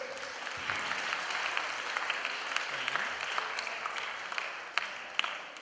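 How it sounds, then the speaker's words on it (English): Steady, dense audience clapping for the actors of a touring theatre show in Hong Kong, a fairly distant wash of many hands with a few sharper claps standing out, no talking over it. "a big clap for all the actors"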